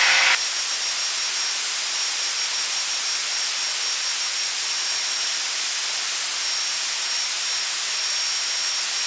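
A Beechcraft Baron 58 twin-engine plane climbing at full power, 2,700 RPM, fills the cabin with a steady, loud, broadband engine and wind roar that holds unchanged throughout, with no voices.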